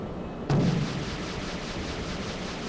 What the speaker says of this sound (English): Rockets nearby from somebody.